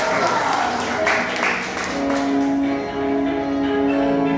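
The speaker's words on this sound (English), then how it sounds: "Please give us a round of applause" A seminar audience gives a continuous, moderately loud round of applause for the first presenter, with a sustained tone and faint voices underneath.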